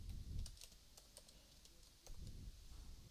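Keys clatter on a computer keyboard while someone types code, with quick, light clicks in short bursts, quiet and close, and no talk.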